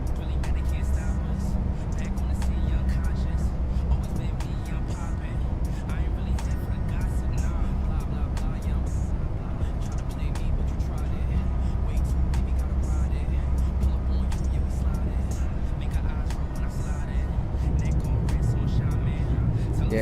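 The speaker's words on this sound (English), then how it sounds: "Yeah, aircraft definitely has some really good sounds." Boeing 737 MAX 8 engines in Microsoft Flight Simulator give a steady, loud low roar and hum that fills the whole stretch without a break.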